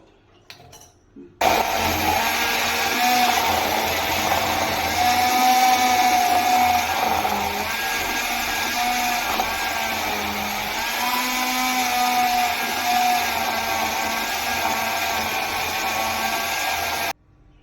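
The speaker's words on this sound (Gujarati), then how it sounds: "તમે બ્લેન્ડરની મદદથી પણ આને ક્રશ કરી શકો છો" After a brief quiet moment, a blender switches on and whirs loudly and steadily, its motor pitch wavering slightly as it grinds soaked rice for a long stretch.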